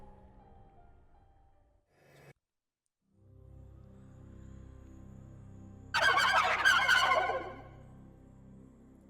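A quail-like demon in Shin Megami Tensei V gives a bird-like cry, a loud, rapid, gobbling burst of warbling chirps over a low game soundtrack hum, preceded by a brief electronic blip.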